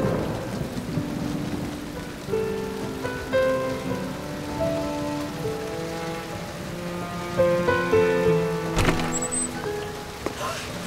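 Cold rain falls steadily in a drama scene, a soft hiss under a sustained music score, with one dull thump near the end.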